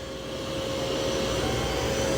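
A Dreame L40 Gen 2 robot vacuum with 25,000 Pa suction works across carpet scattered with long hair, giving a steady, close whooshing hum with a faint whine that rises slightly and holds.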